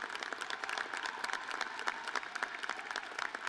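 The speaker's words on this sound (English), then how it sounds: "A round of applause for these remarkable students" Applause from a seated audience at a university commencement ceremony honoring returning graduates of the classes of 2020 and 2021, a steady wash of many hands clapping at moderate volume from some distance, unbroken throughout.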